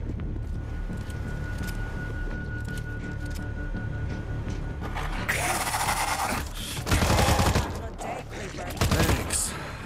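Gunfire in the World War Z video game, set in a New York tunnel: a low steady rumble gives way to loud, dense bursts of rapid shooting in the second half, with a brief voice early on.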